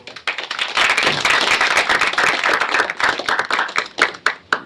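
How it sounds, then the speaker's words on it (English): Audience applause after a presentation, a dense, steady burst of many hands clapping that holds loud for several seconds and thins slightly toward the end. "let's give a round of applause for Bill"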